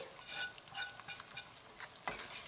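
A spoon scrapes and stirs a chickpea flour and coconut mixture in a pan over low flame, soft rhythmic scraping with a faint sizzle, close and quiet, with a sharper clack near the end.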